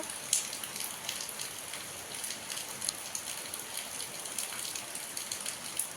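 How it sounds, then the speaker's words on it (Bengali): Steady rain falling outside a home, a soft even hiss of drops with scattered sharper patters close by, no voices. "কিরম ভালো লাগে বৃষ্টিটা।"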